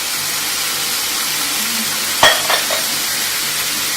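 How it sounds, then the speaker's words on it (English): Aloo curry with chili powder, salt and turmeric sautéing in a pan, a steady close hissing sizzle throughout, interrupted once by a sharp spoon clank against the pan and a softer knock after it. "Continue sauteing for another 1 minute."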